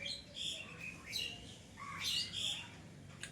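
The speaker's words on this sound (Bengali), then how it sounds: "আমি যখনই ক্যামেরাটা অন করি তখনই পাখিগুলো ঝগড়া শুরু করে দেয়" Several small birds chirp and squawk in quick, sharp bursts, squabbling close by in short, agitated calls over a quiet background.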